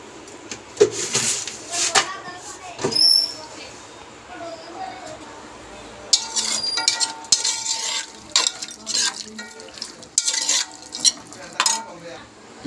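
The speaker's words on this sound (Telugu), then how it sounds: "కట్ చేసి పెట్టుకున్న ఉల్లిపాయలు, పచ్చిమిర్చి, కారం, అలాగే 1 టేబుల్ స్పూన్ పసుపు వేసి బాగా మిక్స్ చేసుకోవాలి" Onions, green chillies, chilli powder and turmeric stirred into raw beef for a Telugu-style beef curry, with clinks of a utensil against a pot and scraping mixing sounds in irregular bursts under faint background noise.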